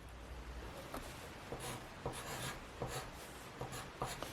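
Pencil scratching numbers onto paper in short, faint strokes, a series of quick scribbles and taps spread evenly over a quiet background.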